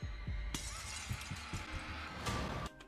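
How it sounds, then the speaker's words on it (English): Glass smashes in the video game Hello Neighbor, a sharp crash followed by a shimmering spray of shards that rings out for about two seconds before cutting off. "Smashing glass, child screaming."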